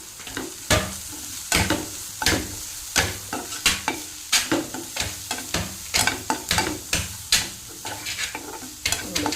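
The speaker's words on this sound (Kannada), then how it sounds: "ಸುವಾಸನೆ ಹೋಗುವ ತನಕ ಫ್ರೈ ಮಾಡಿಕೊಂಡ್ರೆ ಆಯಿತು." Cumin powder, coriander powder and turmeric fry in a pan, a low sizzle broken by regular scraping strokes of a spoon stirring close by, repeated roughly every half second throughout.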